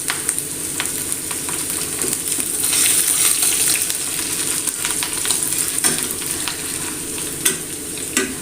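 Chopped ginger sizzles steadily in oil in a hot pan, with a dense frying hiss broken by occasional scrapes and clicks from a stirring spoon.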